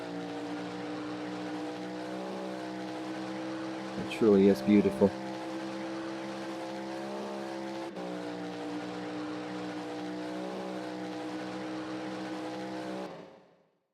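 A Mercedes AMG GT3 race car in rFactor 2 holds a steady, loud engine drone with layered harmonic tones, briefly rising in pitch near the middle, while someone speaks over it and the sound cuts out at the end.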